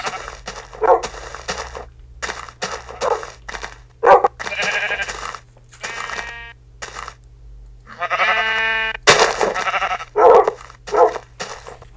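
Several short sheep bleats from Minecraft, some game-like and synthetic, sound one after another with pauses between, close and clear over a low steady hum.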